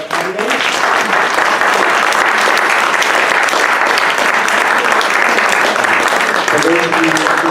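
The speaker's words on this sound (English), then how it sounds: "let's give a round of applause to all our candidates" Sustained, loud applause from the audience at a Marina Democratic Club candidates forum for Marina Coast Water District, a dense even roar of clapping filling the room with faint voices underneath.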